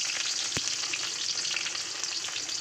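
Sliced onion dropped into hot oil in a pan sizzles loudly and steadily from close by, with one brief knock early on and no voices.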